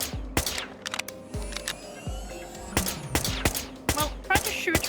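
Gunfire in the video game Whispers of a Machine: sharp separate shots in uneven bursts, loud and near, with quieter pauses between volleys.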